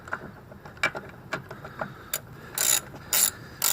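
Screws on a Trailblazer throttle body are tightened with a ratchet, giving a series of short clicking ratchet bursts with quiet pauses between them, followed by a few louder, longer rasping turns near the end.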